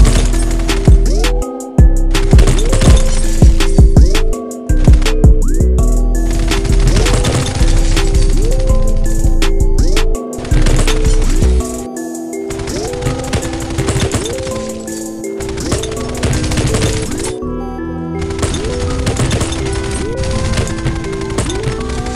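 Rapid gunfire from headshot and body-shot kills in the shooter game Rogue Agents, with dense repeated bursts and impacts running loud throughout, alone without talk.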